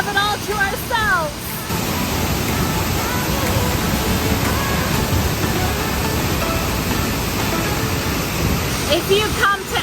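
Leke Leke waterfall in Bali pours in a steady, loud broadband roar that fills the scene from start to finish, with brief voices audible at the beginning and end.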